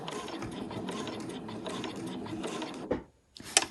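A sewing machine stitches across the bottom of a zipped cushion cover in a steady mechanical whir that runs close and continuous, then stops briefly before a short burst of needle clatter resumes.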